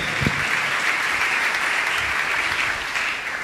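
A church congregation at a healing testimony service applauds together in a dense, steady burst of clapping that fills the whole moment without any talk.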